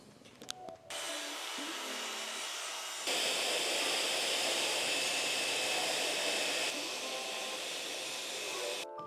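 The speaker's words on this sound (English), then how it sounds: "we're gonna cut the plywood for the bottom shelf. I'm doing this with a circular saw." A circular saw cutting plywood for a workbench shelf in a small shop, its loud, steady high-pitched whine running for several seconds with a brief spin-up at the start and spin-down at the end, no talking.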